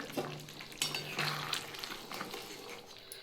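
Cabbage fritter curry with a little ghee stirred gently in a pan, soft sizzling under light scraping and clinking of a spoon against metal, close and moderately quiet.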